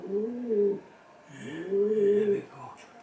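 Racing pigeons coo in two separate low, throaty phrases at close range, with a short pause between them and faint background noise.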